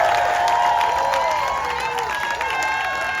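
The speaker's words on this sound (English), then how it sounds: "can we just have 1 more round of applause for every single artist who is on this stage today?" A festival crowd applauds and cheers for the artists on stage, with dense clapping and whoops filling a large space under a held musical tone.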